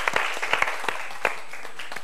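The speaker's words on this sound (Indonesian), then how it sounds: "Iya, tepuk tangannya mana?" Sparse, scattered handclaps from a small group of children during a classroom activity, a few sharp claps spread irregularly over a quiet background.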